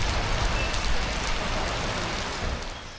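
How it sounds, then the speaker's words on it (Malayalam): Heavy rain pours steadily onto a Royal Enfield Bullet motorcycle in Perla, Kerala, a loud, continuous hiss of drops drumming on the bike and surrounding surfaces with no voices. "ഇതെന്റെ ബുള്ളറ്റ് ആണെങ്കിൽ നല്ല പോലെ മഴ നനയുന്നുണ്ട്"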